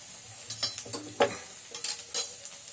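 Mustard seeds splutter and pop in hot oil in a home kitchen, a scatter of quick crackling bursts over a faint sizzle, close and fairly quiet, with no voices.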